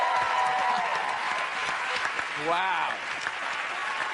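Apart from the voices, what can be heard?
studio audience applause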